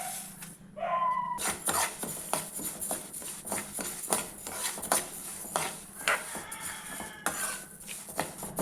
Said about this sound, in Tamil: முதல்ல பச்சை பருப்பு வறுத்துக்கலாங்க.